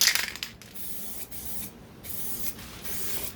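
Steady hissing spray from an aerosol paint can, fairly quiet and close, with brief pauses and a faint rattle at the start, during body work on a 1969 Corvette.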